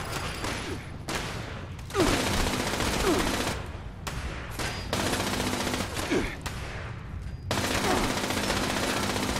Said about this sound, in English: Who's shooting? Is it a turret?